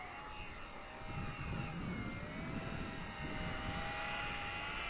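An Eachine E130 RC helicopter doing a one-key takeoff: a thin, steady whine of small rotors and motor rising slightly in intensity, close by, with a faint pitch-shifting tone, no voices.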